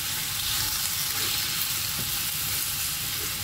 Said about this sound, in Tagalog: Igisa sa ginger.